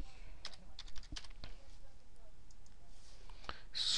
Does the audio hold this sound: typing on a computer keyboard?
yes